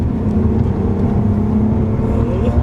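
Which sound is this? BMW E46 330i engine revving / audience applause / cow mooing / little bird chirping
BMW E46 330i engine revving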